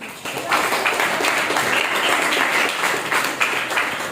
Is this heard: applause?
yes